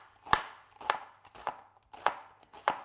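Onion is diced with a knife on a cutting board, five crisp, evenly spaced chops close up, each a sharp knock against the board with brief quiet between, no talking.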